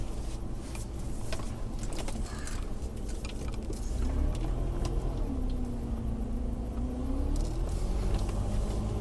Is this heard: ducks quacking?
no